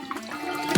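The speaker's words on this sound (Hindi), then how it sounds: "अब तीखेपन के लिए बस थोड़ा सा टबैस्को सॉस डाल देती हूँ।" Tabasco sauce poured into a cake-decorating volcano project, a short wet liquid splash and trickle, close and fairly loud, with no voices.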